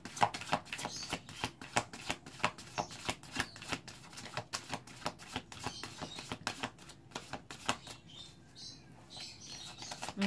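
A deck of tarot cards is shuffled and drawn up close, giving a rapid run of crisp riffling flicks and taps that lasts for several seconds before thinning out at the end.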